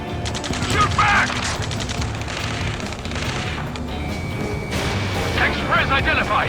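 Ground battle gunfire in the video game Ace Combat 7, with dense, loud rapid gunshots and bursts of fire that continue throughout while shouted voices come through over the shooting.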